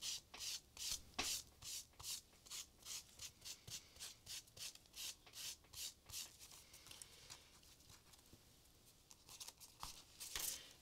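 Paint is rubbed off a stencil on paper in a mixed-media art journaling session, making a steady run of quick scrubbing strokes, soft and close, with no talking.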